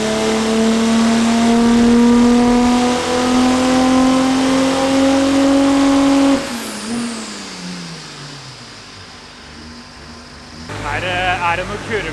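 OM648 diesel engine in a drift car revving hard on a dyno, a loud sustained high-rpm pull for about six seconds, then winding down, with a short burst of background noise near the end.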